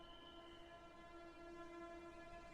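Train rolling past near a station, a steady loud rumble with a sustained tonal whine throughout, no voices.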